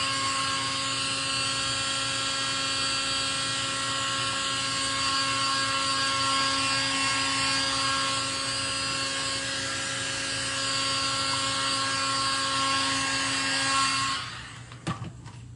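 A dryer blowing on fresh paint: a loud, continuous whirring blast with a steady tonal whine that runs unbroken for about fourteen seconds, then cuts off with a brief clatter.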